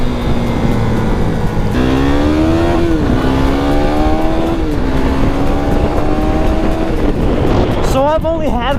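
A KTM Duke 390 motorcycle engine runs loud and steady while riding, its pitch climbing and dipping through gear changes, with a sharper rev rising near the end.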